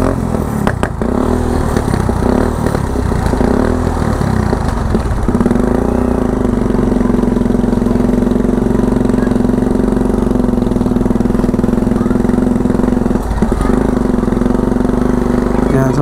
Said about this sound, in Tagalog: sumakay tayo sa kulong-kulong dito